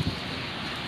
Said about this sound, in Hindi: आज जद्दा में बहुत तेज़ हवा चल रही है